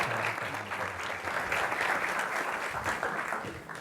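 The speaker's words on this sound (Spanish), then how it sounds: "Os pido un aplauso para Pedro, que nos tiene que dejar." A conference audience applauds steadily during a round-table session, a dense wash of clapping in a room full of people that carries on for several seconds.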